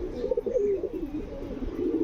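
Caged pigeons coo steadily in low, throaty rolling phrases, several birds overlapping close by with no talk.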